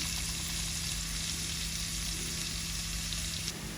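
Onions and spices sauté in a pan while ginger and garlic paste join them for a chicken, kohlrabi and red amaranth dish; a steady, close, continuous sizzle runs throughout with no talking.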